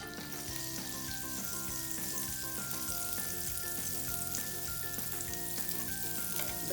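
Butter melting with coconut oil in a pan over a low flame, giving a steady, even sizzle throughout, close by with no talking.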